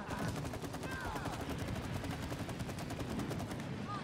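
Rapid automatic gunfire aimed at a boss in the video game It Takes Two, a fast, evenly spaced stream of shots running continuously at moderate level against game effects.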